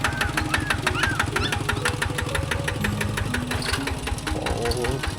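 A walking tractor's small engine runs with a steady, rapid knocking putter at close range in a remote mountain village, continuous throughout, with faint voices and other sounds mixed in.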